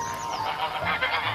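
Geese honk in a quick burst of harsh, nasal calls, several overlapping honks sounding close and moderately loud within about a second.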